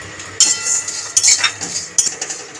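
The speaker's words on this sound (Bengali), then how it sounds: "গোটা মশলাগুলো খালি কড়াইতে নেড়ে ছেড়ে ভেজে নিয়েছি।" Whole spices (bay leaves, cloves, cardamom, cinnamon, cumin and coriander seeds) are dry-roasted in an empty wok, with sharp scraping and clinking bursts from a stirring utensil over a faint, dry rustle.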